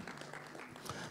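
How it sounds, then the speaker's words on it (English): A church congregation claps during a Sunday service, a dense, steady patter of many hands mixed with faint crowd noise, fairly distant and reverberant. "Let's clap our hands for this strong man."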